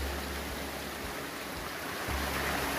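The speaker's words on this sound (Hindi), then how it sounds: "यहाँ पे एक झरना है" Waterfall along a snowy mountain road in Kurung Kumey, Arunachal Pradesh, heard as a steady, dense roar of rushing water filling the whole clip at moderate distance, with no talk.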